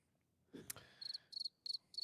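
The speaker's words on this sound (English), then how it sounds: "Crickets." Cricket chirps, played as a sound effect on a chaotic mock-draft show, follow a soft thud: four quick, high, trilling bursts at an even pace, fairly quiet and with no talking.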